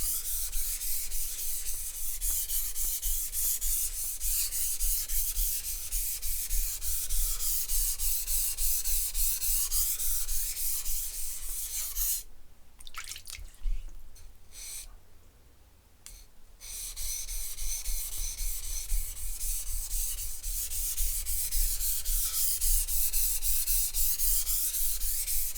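Steady back-and-forth scraping of a sushi knife across a sharpening stone, continuous rhythmic rubbing strokes that pause briefly midway before resuming, close and fairly loud with no talking.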